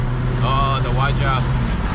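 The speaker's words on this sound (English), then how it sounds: "The Waja's acceleration is just really, really good." A 2005 Proton Waja 1.6i pulling on the road, a steady engine drone heard from inside the cabin, with voices talking over it.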